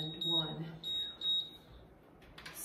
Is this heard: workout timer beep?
yes